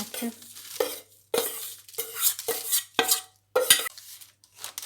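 Crushed biscuits mixed with butter being stirred in a bowl for a cheesecake base, a spoon scraping in bursts of about a second each with brief pauses between strokes.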